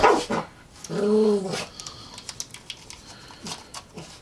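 A dog barks and yelps nearby, a couple of loud strained barks followed by softer whimpers and short yips, with no talking.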